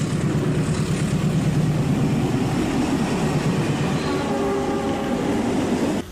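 A train passes near and loud, with a heavy low rumble and clatter. Brief tonal horn-like notes come in toward the end before the sound drops off abruptly.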